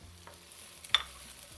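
Ginger and green chilies frying with golden onions in a pan on a high flame, a quiet sizzle with one sharp stir or scrape near the middle, close and without talk.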